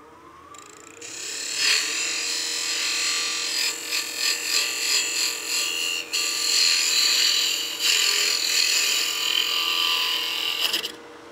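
Hollowing tool cutting into wood on a lathe while turning a baby rattle, a steady loud scraping hiss that runs nearly unbroken for about ten seconds with rhythmic fluttering as the cut catches.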